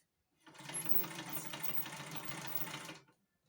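A weaving machine weaving cloth with three wool threads, running steadily for about two and a half seconds with a fast, even mechanical clatter, quiet and close, then stopping.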